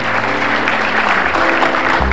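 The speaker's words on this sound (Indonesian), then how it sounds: "Ya, tepuk tangan sekali lagi." An Indonesian comedy show audience claps loudly and continuously, a thick wash of applause with a faint low hum underneath.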